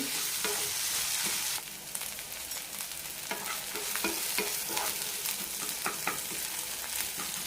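Tomatoes and onion sautéing in a pan for a horse gram chutney, a steady hiss of frying with repeated scrapes and stirs of a spatula, close and continuous, with no voices.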